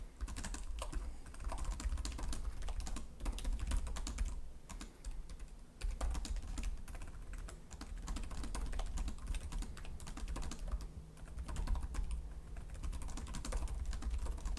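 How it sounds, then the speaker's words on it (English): Typing on the keyboard of a 2023 Lenovo Legion Slim 7i Gen 8 gaming laptop: a steady, dense stream of close key clicks with long travel that continues at an even rhythm for the whole stretch, with no talking. "You'll see there's a lot of key travel."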